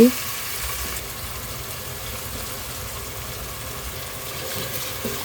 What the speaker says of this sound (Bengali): আমি পানের মাঝে পরিমাণ মতো তেল দিছি আর রসুনটা ব্রাউন করা করে আমি পেঁয়াজ অ্যাড করছি